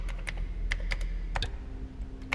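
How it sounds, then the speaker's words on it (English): Quick fingers tap on a computer keyboard, a close, irregular run of crisp clicks and clacks over a low room hum, with no talking. "He put his hands back on the keyboard and started typing again."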